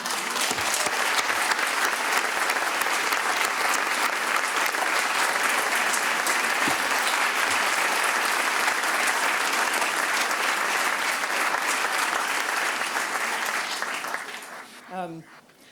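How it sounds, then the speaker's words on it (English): Sustained audience applause honoring David at an award dedication, dense and steady for about fourteen seconds before tapering off as the clapping fades at the end. "I'd really like for everybody to give David a round of applause"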